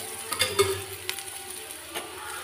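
Oil sizzles faintly on roasted bitter gourd (karela) in a pan, a soft steady crackle with a few brief clicks from stirring, close by and quiet.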